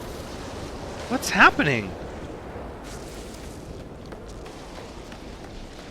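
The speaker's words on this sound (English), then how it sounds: "I feel like that was a lot of explosions and ruptures, maybe?" In No Man's Sky, one loud, rumbling blast swells and fades over about a second, followed by a low, steady ambient wash. A person speaks briefly.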